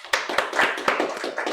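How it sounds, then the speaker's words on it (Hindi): A small group clapping in a classroom, a short burst of several quick, close hand claps in an uneven rhythm. "तालियां हो जाए।"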